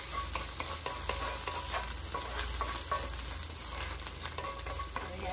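Garlic sautéing in butter in a small saucepan, a steady soft sizzle with light stirring clicks, faint and close, no talking.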